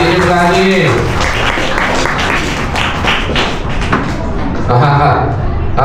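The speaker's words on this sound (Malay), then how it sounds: "Tepuk tangan untuk adik" A forum audience at a school Ramadan event claps for a child, dense continuous applause under loud talk and thumping, with a voice rising and falling over the top.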